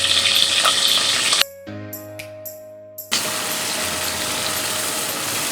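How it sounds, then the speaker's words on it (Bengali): Onion, green chili, garam masala and bay leaf sizzle steadily in hot oil for a Bengali mung dal and katla fish head murighonto, with a brief quieter lull partway through before the loud frying resumes. "এরপরে আমি এই তেলে পেঁয়াজ কাঁচামরিচ এবং গরম মশলা ও তেজপাতা অ্যাড করে দেব"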